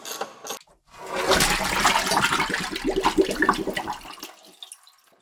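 A hot-wired water-methanol injection pump sprays during a flow check, giving a loud, rough hissing spray with a ratcheting buzz that runs for about three seconds after a brief click, then cuts off.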